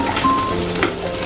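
Prawn fish curry with freshly added coriander leaves being stirred and mixed around a pan, a steady close sizzle with soft scraping stir strokes through the short moment, no talking.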